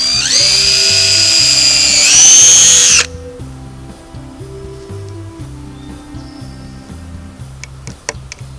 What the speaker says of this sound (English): Pre-drill the holes, about 1/2 inch from the side.